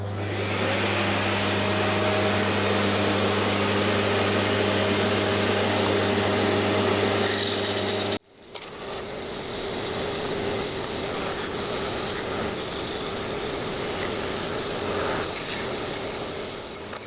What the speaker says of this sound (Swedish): men jag kan alltid slipa den och det ska jag göra nu, men jag kommer att ha min dammsugare igång